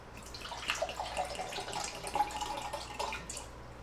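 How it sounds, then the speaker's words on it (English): Water splashes and trickles into a cup before collagen and creatine are mixed in, a close, unsteady pour with small drips and gurgles and no talking. "So I'm gonna throw some water in here."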